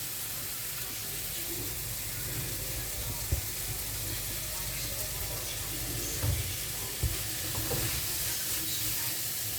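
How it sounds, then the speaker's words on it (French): Green beans going into a pan with crushed tomato, a steady soft sizzle with scraping and stirring clicks throughout, close and fairly quiet. "J'écrase bien ma tomate, je la mélange et là je vais mettre mes haricots."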